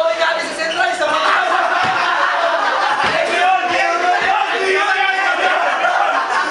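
Rap-battle crowd roaring and clapping, a loud dense mass of cheers and shouts with scattered claps and laughter, sustained without pause.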